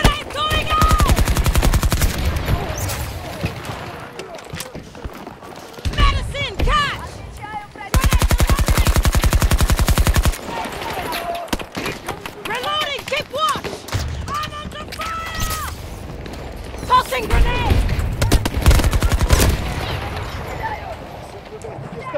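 Heavy automatic gunfire in the video game Battlefield 2042 comes in rapid, loud bursts, one long sustained volley in the middle, mixed with game sounds and excited voices talking over it.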